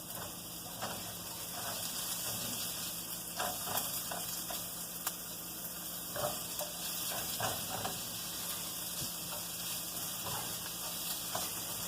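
Chopped vegetables sauté in a cast iron pan before meat is added, a soft steady sizzle with scattered light clicks and scrapes from stirring, fairly quiet and without speech.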